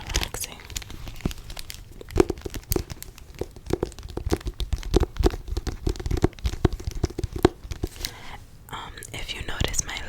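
Plastic cover of a book crinkling and crackling as it is handled, close and intermittent, beneath soft whispering throughout.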